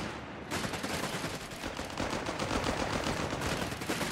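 Machine gun fire in Company of Heroes 3, a dense continuous rattle of automatic and scattered gunfire throughout, loud and unbroken like a battle soundscape.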